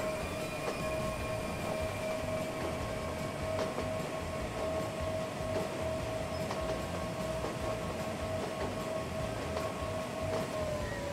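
A train in the Transport Fever video game runs along the track, a steady rumbling drone topped by a sustained high tonal whine, like a brake squeal, holding unchanged at a constant level throughout with no talk.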